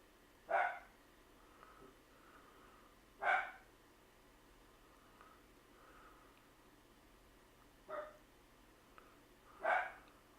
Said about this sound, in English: That's my dog Cooper.